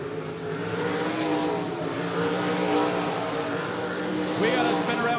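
305 sprint cars roar around the dirt oval at Jacksonville Speedway, a steady dense engine drone from the pack with a rising rev near the end, under a public-address announcer's talk.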